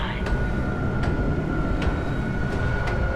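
A damaged tram car in the game Dead Space is repaired and connected, giving a continuous low mechanical rumble with a steady tone and a few soft periodic clicks, loud and close throughout.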